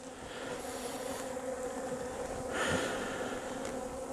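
Honeybees buzz steadily around an opened hive on a winter day, a continuous droning hum of many wings close by, swelling slightly louder for a moment near the end.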